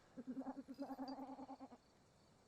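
A goat in the video game Mundaun gives one long, rapidly quavering bleat lasting over a second, fairly faint and alone against a quiet background.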